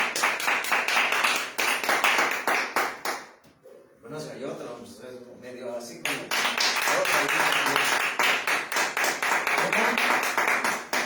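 A church congregation claps in a fast, steady rhythm, pausing briefly while someone speaks over music, then resuming with loud, regular clapping.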